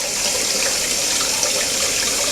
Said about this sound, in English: Cooling off with the cold water.